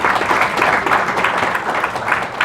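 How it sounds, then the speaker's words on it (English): Devotees at a spiritual yatra gathering applaud themselves, filling the space with loud, continuous crowd clapping that stays dense and even throughout, with no speech. "You should give yourselves a big round of applause"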